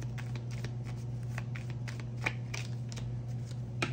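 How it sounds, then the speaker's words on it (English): A deck of playing cards is shuffled by hand in a quiet room: a run of soft, irregular riffling flicks and snaps over a low steady hum, with no voices. "I don't know how people be shuffling them cards like that."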